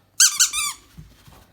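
A person imitates a puppy's yelp during a play session with a 9-week-old pup: two sharp, high squeaky yelps and a longer wavering whine, loud and close, followed by faint low rustling.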